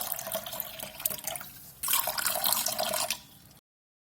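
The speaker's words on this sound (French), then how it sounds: "Je vais verser la bouillie dans les bols." Hot porridge pours from a pot into bowls, a wet splashing pour that swells for about two seconds, then stops, with softer liquid sounds before it.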